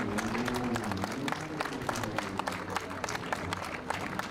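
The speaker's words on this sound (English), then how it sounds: "Lots of applause to Gareth" Steady applause from a crowd at a classic car race prize-giving at Silverstone, many scattered claps blending into a continuous patter, moderately distant, with a faint amplified voice underneath.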